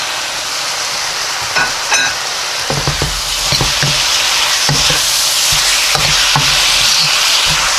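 Pork stir-fried in a hot pan sizzles loudly and steadily, with scattered clicks and scrapes from stirring, and no voices over it.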